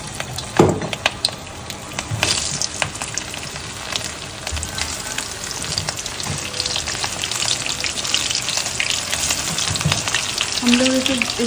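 Coated chicken broast fries in oil over a low flame, a steady crackling sizzle running throughout with a few louder pops and spatters, fairly close and with no talking.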